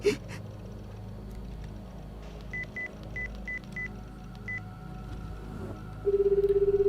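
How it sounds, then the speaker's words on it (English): A telephone number is dialed on a phone, a run of short evenly spaced keypad tones followed by a steady ringback tone, over a low background hum in a quiet room. "called Rimi's phone number"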